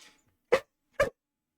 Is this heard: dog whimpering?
yes